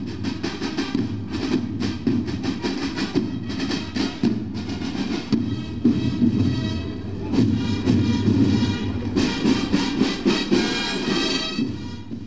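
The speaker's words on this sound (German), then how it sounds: "Seit jeher nennt man sie Eisenbahn." A railway train runs along the track near Strausberg in 1998, a steady rolling rumble with repeated rhythmic clatter from the wheels, loud and continuous throughout with no talking.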